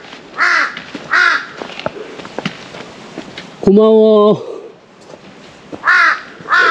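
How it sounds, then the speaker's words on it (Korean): Crows caw loudly and nearby at Ulsan beach on the Korean east coast, several harsh repeated calls spaced a second or so apart, while a person talks in between amid light outdoor background noise. "까마귀 때문에 힘이 나네"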